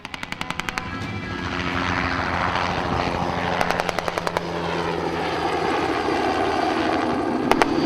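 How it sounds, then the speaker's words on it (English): A Bell Jet Ranger helicopter's engine and rotor drone loudly and steadily, with sharp rhythmic clicking bursts cutting through; no one speaks. "William Kilgore of the 1st Air Cavalry makes a grand entrance in another undercover Air America aircraft, this time a Bell Jet Ranger helicopter."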